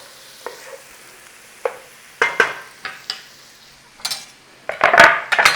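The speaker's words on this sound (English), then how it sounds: "Okay, we're going in there with some onion. Nice little stir on there" Chopped onion in butter in a pan is stirred with a utensil, giving scattered scraping strokes and clinks that grow busier toward the end, close up over a quiet, low sizzle.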